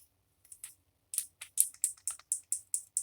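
A stiff, fragile rubber carburetor part from an old chainsaw is handled up close, giving a run of sharp, dry crackling clicks that grow quicker and more regular toward the end, faint and without speech.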